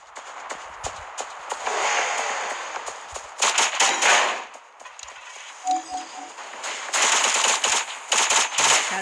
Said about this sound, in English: I'm gonna turn the volume up so I can hear their gunshots and footsteps and all that stuff.